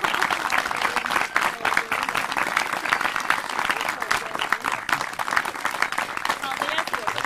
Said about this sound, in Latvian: Es domāju, ka viņi pelnījuši vēl siltāks aplausus